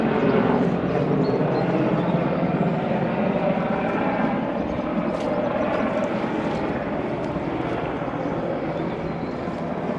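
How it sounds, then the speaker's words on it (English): An Apache gunship helicopter flying overhead, a loud sustained rotor and engine roar with a broad rumbling drone, steady across the whole stretch, with faint voices beneath. "It's Apache gunship"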